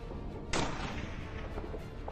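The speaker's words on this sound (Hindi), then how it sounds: "यूएस एयरफोर्स का ये HS-60 pave hoc rescue helicopter है, जिस पर ईरान की पुलिस गोलीबारी कर रही है" Gunfire aimed at a US Air Force HH-60 Pave Hawk rescue helicopter, a single sharp loud shot followed by a fading echo over a steady low background rumble.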